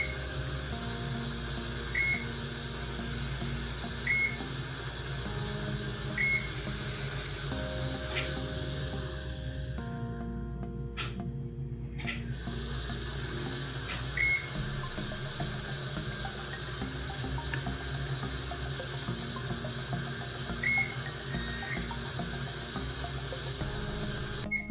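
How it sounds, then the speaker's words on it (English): X-ray tube and generator running a series of calibration exposures: a steady mechanical hum with evenly spaced short beeps about every two seconds, plus a brief louder buzzing burst partway through. "You're going to hear the tube and the generator in the background taking a series of X-rays."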